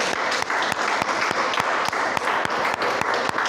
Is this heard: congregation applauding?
yes